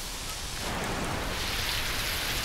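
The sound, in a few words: hail or rain falling, cartoon sound effect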